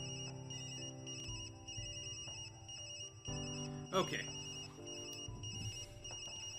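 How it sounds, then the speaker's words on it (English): A phone rings inside the video game Tokyo Dark, a steady electronic tone running under game music while a person speaks briefly over it. "get rid of this phone ringing"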